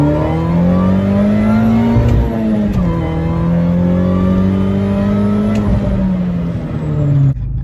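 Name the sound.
car accelerating with supercharger whine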